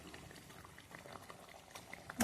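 Pabda fish go into a thickening, simmering curry gravy in a pan, with soft bubbling and light sizzling pops throughout, close and fairly quiet, ending in a brief louder splash.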